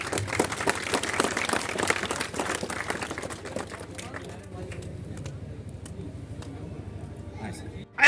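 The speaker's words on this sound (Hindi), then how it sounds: "जोरदार तालियां।" Audience applause at the opening of a new branch of Moon Land International School in Unchahar, a dense burst of clapping that thins out after a few seconds and continues under faint voices and crowd noise.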